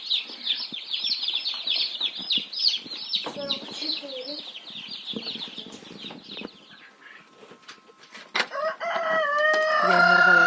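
Chickens and young chicks in a brooder peep and cluck in a busy close chorus, then a few louder crowing and squawking calls rise toward the end, with brief wing flutters.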